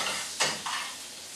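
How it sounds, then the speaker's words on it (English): Loud, close sizzling of jalapenos in a hot pan, with a couple of brief bursts as food is moved or flipped. "Hear that nice sizzle."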